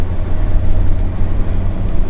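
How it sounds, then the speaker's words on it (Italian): A Mercedes Sprinter van climbing a hill with its front engine straining under load, a dense, constant low drone with a faint turbo whistle riding on top, loud and close throughout. "lo sentiamo cantare bene, sentiamo la turbina fischiare"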